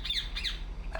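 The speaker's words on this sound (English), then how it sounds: "What the hell's up with that bird?" In the video game République, a bird lets out a few shrill, piercing squawks in quick succession over a low background hum. The calls are fairly close and sound alone.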